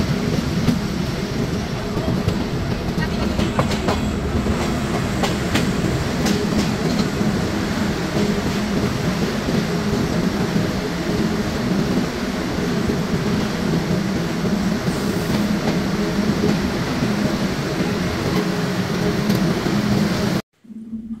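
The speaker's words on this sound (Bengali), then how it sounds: "ঢাকা কমলাপুর রেলওয়ে স্টেশনে প্রবেশের নির্ধারিত টাইম ছিল 5টা, কিন্তু ট্রেন বিলম্ব থাকায় সেটি প্রায় 9টা 20 মিনিটে প্রবেশ করে।" The Dhumketu Express, a Rajshahi-to-Dhaka train, rolls into Kamalapur railway station: a steady, loud rumble of wheels and carriages with faint clickety-clack and squeals, continuous throughout before cutting off abruptly at the end.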